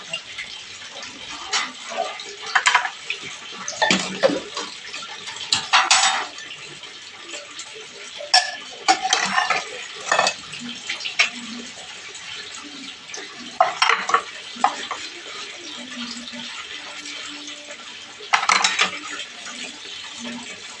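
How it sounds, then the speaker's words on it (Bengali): Dishes and cooking pots are scrubbed and rinsed under a running tap, with intermittent clinks and clatters of metal utensils and splashing water in short bursts separated by quieter pauses. "কলে জল পড়লে তাড়াতাড়ি করে বাসনটা মাজা হয়ে যায়"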